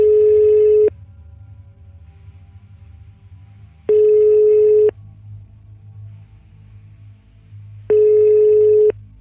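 Telephone ringing tone, a steady electronic buzz repeating three times at regular intervals about four seconds apart, each burst lasting roughly a second, over a low background hum with no voices.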